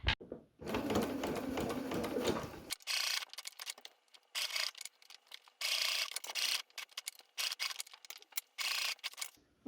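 Sewing machine stitching around the edge of waterproof fabric for a pouch, running in close, loud bursts of rapid mechanical whirring and clatter separated by short pauses, with no talk.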